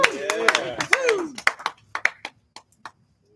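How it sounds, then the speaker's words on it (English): A small audience claps after a spoken word performance, sparse, uneven claps rising under a voice and then trailing off into a few scattered hand claps alone. "Give them a round of applause."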